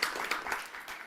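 A church congregation claps and applauds together, a brief wash of many hands at moderate loudness with uneven bursts, heard over a short stretch.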